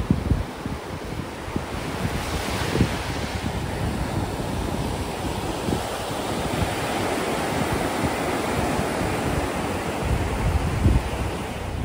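Sea waves at high tide wash steadily onto Ladghar beach in Dapoli, a continuous roar of surf with wind buffeting the microphone and no voices.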